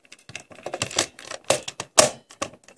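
Plastic lock seed toy snapping into a DX Sengoku Driver belt, a quick run of sharp plastic clicks and clacks of varying loudness, close up with no talking.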